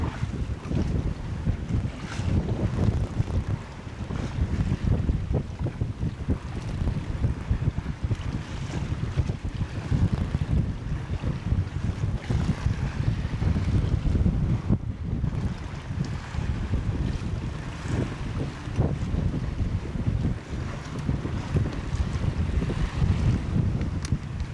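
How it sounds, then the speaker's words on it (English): Wind rushing over a sailboat under way near Cumberland Island: a constant, gusty, low roar of wind striking the microphone, mixed with waves and water noise, loud and unbroken for about twenty-five seconds with no talk. "Got a little wind here, yes?"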